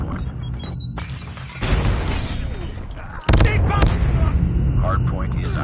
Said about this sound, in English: Hostile predator missile inbound.